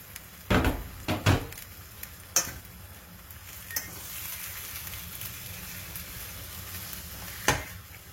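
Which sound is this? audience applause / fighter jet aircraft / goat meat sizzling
goat meat sizzling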